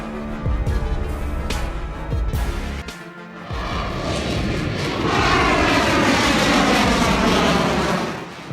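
An XL Airways Boeing 737-800 jet airliner roars down runway 02 at full takeoff throttle, a loud, close, sustained engine blast that swells and stays intense for several seconds, with wind buffeting and no voices.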